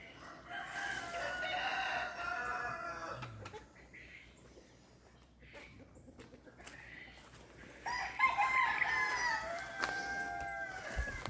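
Chickens cluck around a hatchery yard while a rooster crows, with bursts of layered, close fowl calls near the start and again louder toward the end, separated by a quieter stretch.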